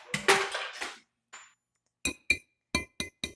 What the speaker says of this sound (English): I've got 2 eggs here. I'm just going to crack them into a bowl.